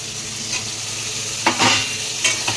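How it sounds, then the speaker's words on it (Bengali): Tomatoes added to softened capsicum frying in a pan, a steady low sizzle with a few brief stirring scrapes and splutters near the end, no talking. "আমার ক্যাপসিকাম নরম হয়ে এসছে একটু, এবার আমি টমেটোগুলো দিয়ে দেবো"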